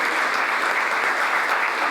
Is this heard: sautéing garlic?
no